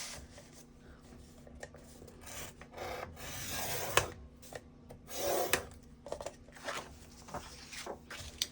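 A paper piece eight by eight inches is scored half an inch from the top on a scoring board for a book-in-a-box project, giving close, repeated rasping scrapes and rubs of uneven length.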